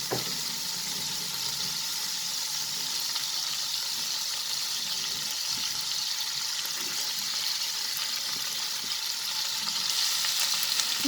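Chopped onions sauté in hot oil in a pan for a prawn and green pea masala, a steady close sizzle and crackle with a faint rise near the end.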